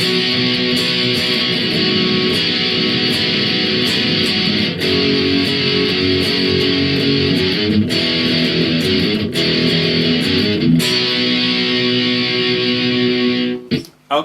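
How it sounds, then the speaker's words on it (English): Distorted electric guitar playing chorus B of a song, loud, continuous strummed power chords with rhythmic chord changes and brief muted breaks, ending in a sudden stop. "that's how you play chorus B then."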